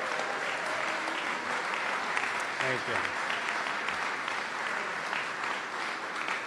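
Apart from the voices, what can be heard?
applause for the daughters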